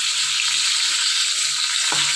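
Pointed gourd fries in hot oil with salt in a pan, a steady close sizzle with soft stirring scrapes now and then, no talking.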